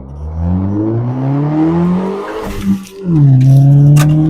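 A turbocharged Hyundai Getz accelerates hard, its loud, close engine note climbing steadily, briefly dropping at a gear change, then pulling upward again with no one talking.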